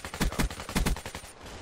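An AK-74u fires in Black Ops 3: a quick string of loud, close automatic bursts in a tight rhythm, over almost as soon as it starts.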